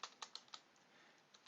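Quick bursts of keystrokes on a computer keyboard, a few sharp clustered clicks then a pause and another tap, close and fairly quiet, with no talking.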